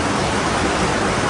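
Strong current of an underground blue river rushing hard, a steady dense roar of water filling the space at close range with no pauses or voices.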